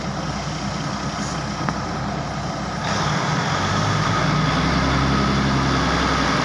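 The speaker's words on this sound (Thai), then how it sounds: "เร่งเครื่องออกแล้วนะครับ" Local train 408's diesel engine idles at Chum Saeng station, a steady close rumble that swells louder about halfway through as it revs to depart.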